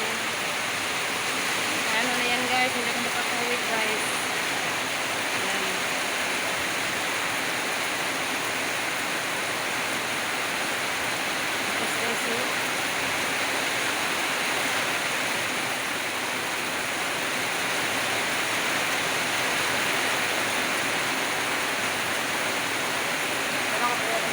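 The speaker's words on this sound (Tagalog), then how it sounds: "ang lakas ng ulan" Heavy rain pours in a steady, dense wash with strong wind adding a broad roar, loud and unbroken throughout, with a few faint voices in the background.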